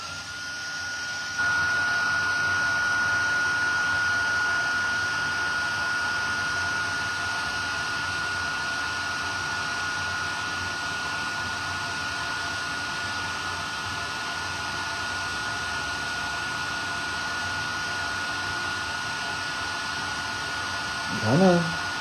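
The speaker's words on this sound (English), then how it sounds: "let's go ahead and heat emboss" A heat tool blows hot air for heat embossing on a die-cut papercraft project, a loud steady whooshing roar that starts abruptly and holds for about twenty seconds, with a brief thump near the end.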